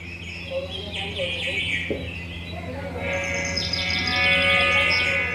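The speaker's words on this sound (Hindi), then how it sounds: "बागों में चहल पहल होने लगी, पंछी भी चहचहाने लगे" Birds chirp and tweet in a garden, with layered high calls growing busier toward the end over a steady background and a music-like bed.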